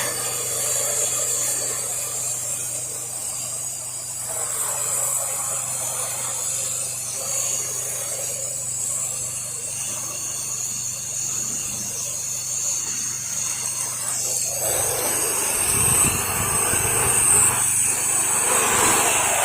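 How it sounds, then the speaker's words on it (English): A pressure washer pushes soap through an M5 downstream nozzle, a continuous loud spray hiss over a low steady engine drone, with a rougher surge near the end. "Using my M5 downstream nozzle to apply soap"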